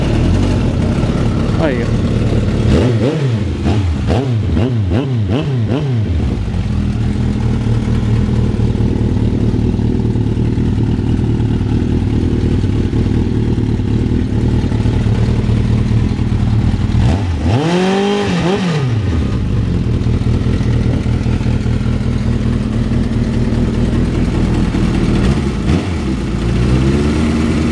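An old motorcycle engine being cranked and started on a cold day: rising whines of starter attempts, then the engine catches and runs loudly and roughly, with someone speaking briefly near the start.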